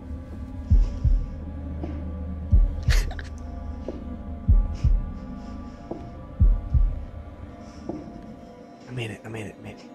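A heartbeat sound effect in The Devil In Me horror game throbs as deep, paired low thumps repeating about every two seconds. Faint game hum and scattered noises sit beneath it, with a brief burst of activity at the end.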